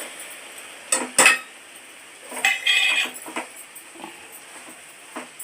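A metal spoon clinks against a cooking pot while coriander powder is added, with a few sharp taps and scrapes spaced apart in a quiet kitchen.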